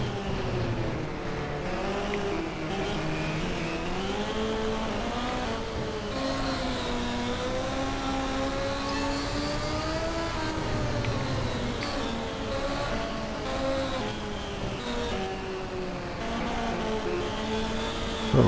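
Race car engines drone and whine steadily in the Xbox racing game Short Track Showdown, several cars bunched together on a short track, their pitches rising and falling as they jostle through turns, loud and continuous throughout.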